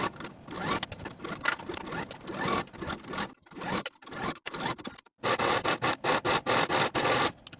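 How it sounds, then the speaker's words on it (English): A sewing machine stitches across fabric tiers in short bursts with quiet pauses, then runs in a quick rhythmic series of pulses near the end. "take it to your sewing machine and sew all the way across with a 1/2 inch seam allowance"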